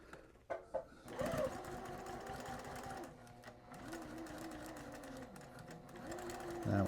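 A sewing machine runs steadily, stitching fabric seams with a close, continuous mechanical whir that briefly pauses and then resumes, with a few soft handling clicks at the start.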